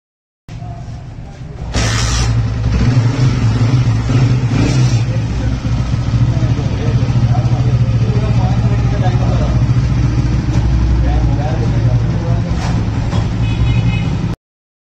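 A motorcycle engine with about 100,000 km on it idles steadily and loud after an engine flush, a constant low rumble after a brief start-up, with a voice speaking faintly in the background.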